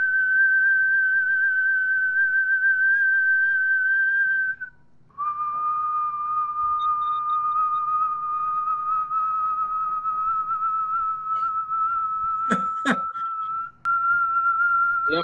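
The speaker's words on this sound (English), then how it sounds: "Do your whistle." A man whistles a long sustained single tone, loud and close, holding steady pitch for several seconds, pausing briefly, then resuming for a longer stretch with a short break near the end and faint clicks in the background.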